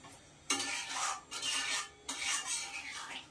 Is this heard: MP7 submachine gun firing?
no